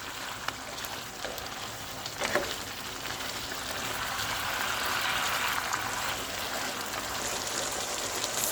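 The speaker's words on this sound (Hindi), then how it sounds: "फ्लेम हाई पे कर देंगे और हाई पे रख के इसको थोड़ी देर के लिए भूनेंगे" Chicken karahi sizzles in a pan over a high flame with black pepper and chopped green chilies, a steady hissing crackle that swells slightly midway, with no talk.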